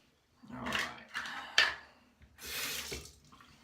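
Tap water runs into a sink in short bursts for rinsing after a shave with a Muhle DE89 razor, with splashing, a brief clatter and pauses between flows.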